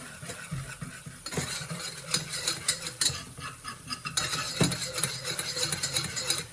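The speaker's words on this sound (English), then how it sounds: "Keep some constant motion on this because you really don't want that to burn." A flour sauce for scalloped potatoes is stirred steadily in a pan, with continuous scraping and clinking of a utensil against the metal and a soft sizzle underneath.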